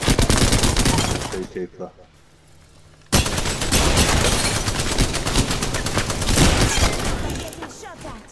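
Dense bursts of rapid automatic gunfire in a video game fill most of the stretch, loud and close, with a brief quieter gap before the shooting resumes, while two people talk over it.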